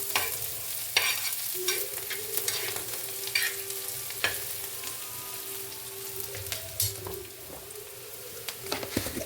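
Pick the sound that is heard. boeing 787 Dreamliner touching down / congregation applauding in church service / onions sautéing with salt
onions sautéing with salt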